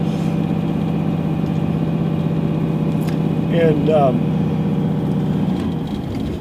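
A 1998 Dodge Ram 3500 Laramie dually with a Cummins 12-valve turbo-diesel runs steadily with a deep, even rumble throughout, close and loud under someone talking, with a slight swell midway.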